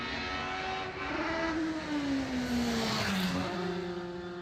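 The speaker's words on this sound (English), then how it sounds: "You can hear that little different engine note. That's a classic Formula Atlantic car." A classic Formula Atlantic race car's engine drones and shifts pitch as it runs past on a road course at Mid-Ohio during an SCCA Super Tour race, heard fairly distant against steady track ambience.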